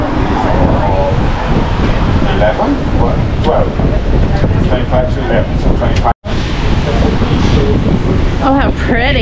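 Wind buffets the microphone on a St Lucia beach, with constant loud roaring surf and waves filling the scene and voices talking faintly beneath the rush.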